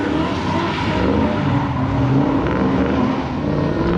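Ford Mustang drift car spinning a 360 at a Halloween open drift contest on a speedway, a loud sustained engine roar with tyre noise, steady and close.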